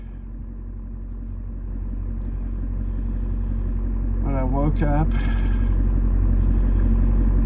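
Pickup truck engine rumbling low and steady while driving, growing slightly louder over time, with a brief stretch of speech over the drone.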